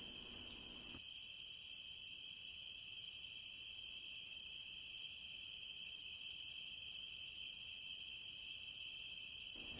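A loud, continuous high-pitched drone of cicadas in a Cambodian forest pulses steadily throughout, with a brief low rumble at the very start.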